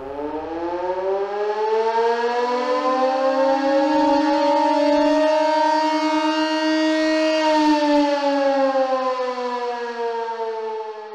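An air raid siren in a Turkish television advert wails loudly and steadily, its tone rising slowly, peaking, then easing back, with no other sounds.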